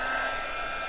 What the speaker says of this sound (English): And the heat tool.